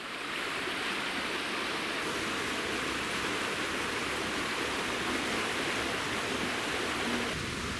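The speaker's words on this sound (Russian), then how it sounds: "Уже слышен водопад." A steady, broad roar of rushing water fills the whole clip, dense and unbroken, from a waterfall heard fairly close by in a canyon near the Shchugor River.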